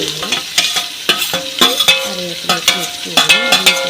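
Green chilies and curry leaves stir-fried with mustard seeds in hot oil, a steady sizzle broken by repeated close scraping stirs of a spoon against the pan.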